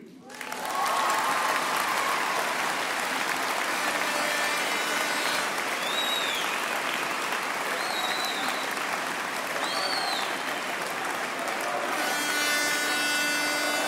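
Sustained audience applause fills a hall during a political speech by Ségolène Royal in Dijon, steady and dense from start to finish, with a few faint whistles or cheers rising over the clapping.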